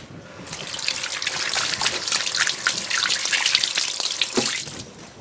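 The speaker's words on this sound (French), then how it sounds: "Je vais me rincer les doigts." Fingers rinsed under a running kitchen tap while cooking osso buco, a steady close splash of water streaming and trickling for about five seconds with no talk.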